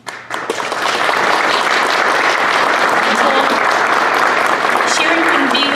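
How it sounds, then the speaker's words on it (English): A hall audience at an arts awards ceremony in Labrador City applauds an emerging artist award winner, full steady clapping rising quickly after a brief start and holding loud throughout. "I'll ask for another round of applause for Sharon"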